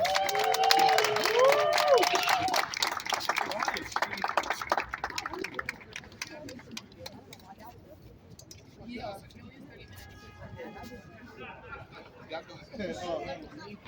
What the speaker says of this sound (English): Give them a round of applause for me, please.